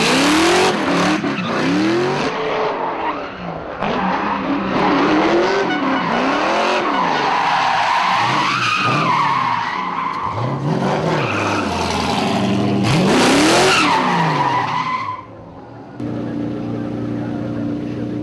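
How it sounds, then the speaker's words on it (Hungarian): A 600 hp Chevrolet Camaro drifting at a rallycross event, loud engine revving in repeated rising and falling sweeps with sustained tire squeal, close and continuous, then a sudden drop to a steadier idle near the end. "a drift szakág legújabb járgánya, amint egy 600 lóerős Chevrolet Camaro bizony ámulatba ejtette a nézőket"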